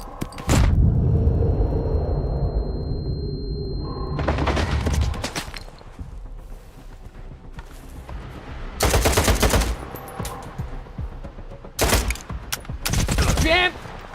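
AK rifle gunfire in STALKER 2 comes in several loud automatic bursts separated by pauses, with a heavy rumbling blast near the start.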